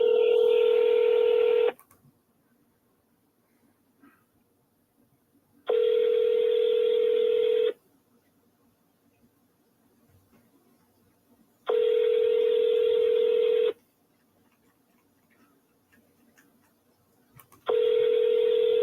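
A phone dials out and rings in a regular ringback pattern: four evenly spaced, loud tone bursts with quiet gaps between them and no talking.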